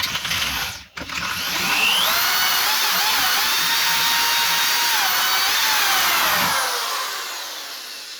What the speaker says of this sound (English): I'm just going to try and drill a little bit of a bigger hole here